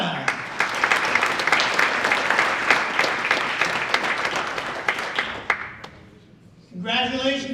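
An audience claps for fall All County athletes at a school board meeting, a steady round of applause with dense, continuous clapping that fades out before a speaker's voice returns.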